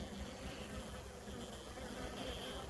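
Honeybees in a hive after the queen has been replaced give a faint, steady, dense buzzing that hums on without a break through the whole stretch.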